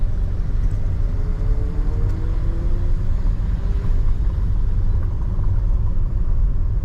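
A car's engine rumbles steadily like a racing car on a quiet dead-end road in Macau, a constant low drone that stays loud and even throughout with no talking.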